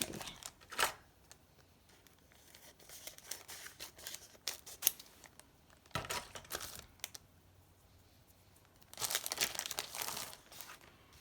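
Scissors snipping through paper while cutting out small flags and rosettes for a craft project, a few quiet close crisp cuts and crinkles spread out with gaps, ending in a denser run of snipping.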